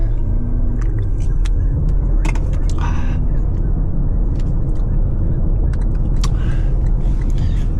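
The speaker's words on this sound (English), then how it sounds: "Oh, that's a Fiat 500." A Fiat 500 car drives by close at hand, a loud, continuous low engine and road rumble with scattered light clicks on top.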